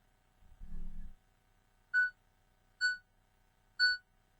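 A kitchen timer sounds three short, bright electronic beeps spaced about a second apart, clear and close, following a brief low thump.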